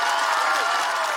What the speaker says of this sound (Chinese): 给他们足够热烈的激情和掌声